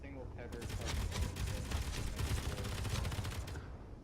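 Sustained, dense gunfire from weapons in the space-building game Space Engineers, a loud continuous barrage of rapid shots filling about three seconds before cutting off, with a voice talking briefly at the start.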